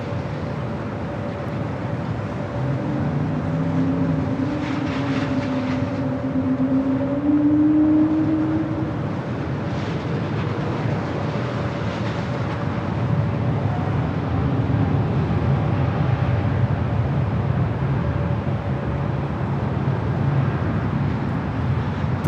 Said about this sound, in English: Breeze Airbus A220-300 rolling down the 24 left.